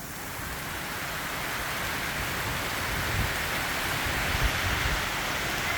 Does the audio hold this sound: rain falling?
yes